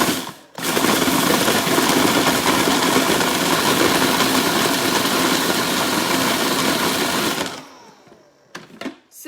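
A food processor churns dry ingredients for date and oat balls: a loud, dense, steady roar close by that runs for about seven seconds, then cuts off into a few scattered knocks.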